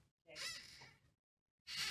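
A crow gives two harsh caws, a long one followed after a pause by a shorter one, heard fairly clearly from a roadside about twenty feet away.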